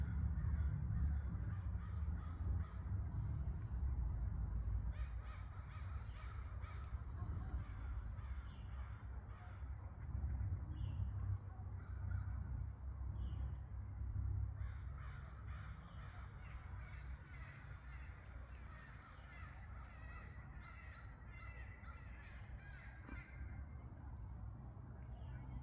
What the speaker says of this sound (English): Birds are being very talkative right now.